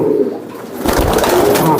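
Kaldom pigeons coo close up at a large pigeon farm, with soft repeated throaty calls filling the short moment.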